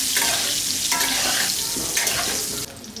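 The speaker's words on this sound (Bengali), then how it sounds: "দিয়ে আলুটা ভালো করে ভেজে নেব।" Potatoes fry hard in hot oil in a wok, a loud, bright, continuous sizzle with scraping stir strokes recurring every second or so. The sizzle dips slightly near the end.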